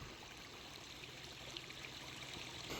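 Water streams steadily over a backyard garden waterfall freshly cleaned out for winter, a continuous near trickle and splash with a slight gurgle, fairly faint and holding even throughout with no voices.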